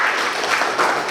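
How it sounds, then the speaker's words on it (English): Steady, loud applause from an audience honoring a human rights lawyer at a Martyrs' Day gathering, a dense unbroken wash of clapping filling the whole moment. "Give him a round of applause."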